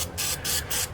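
A pump-up olive oil sprayer mists portobello mushrooms in a kitchen, three quick hissing bursts in rapid succession, close and fairly loud.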